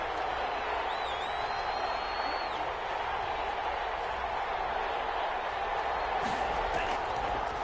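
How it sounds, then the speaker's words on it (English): Crowd noise at a football stadium rumbles steadily throughout, a dense wash of cheering and chatter with a broadcast voice audible over it. "Crowd getting in it a bit already."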